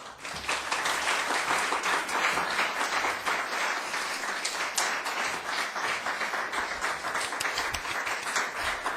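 A congregation at a Korean church service breaks into loud, sustained applause, dense rapid clapping from many hands filling the room without pause.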